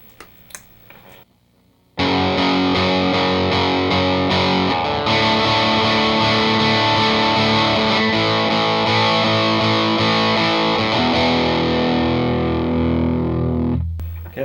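The electric guitar intro: a loud, dense, distorted chorus-effect guitar enters abruptly after a quiet opening and rings on continuously for about twelve seconds before cutting off.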